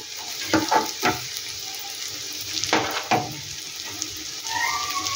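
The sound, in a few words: homemade sauce added to sizzling pan of potato balls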